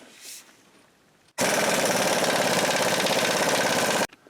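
A pneumatic impact wrench tightens the nut on a Ford F-150 front strut bolt, one loud continuous rattling burst of about three seconds that starts and stops abruptly after a quiet moment.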